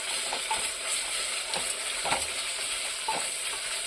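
Onions and tomatoes sautéing in a pan with salt and a whole green chilli for parotta salna, a steady close sizzle with occasional soft stirring scrapes throughout, no voices.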